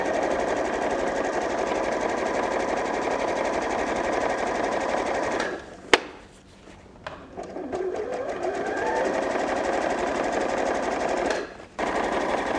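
A sewing machine zigzag stitching an overnight bag runs in a fast, steady mechanical chatter up close, pausing briefly around the middle with a click and handling sounds, then resuming before a second short stop near the end.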